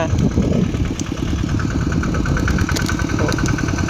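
A small two-wheel tractor engine runs steadily with a rapid, even chugging beat, close by, while voices talk over it throughout.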